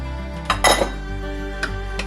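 A spoon stirring cheese into cooked macaroni in a metal pot, giving a few sharp clinks against the pot, loudest near the start, over a low steady background hum.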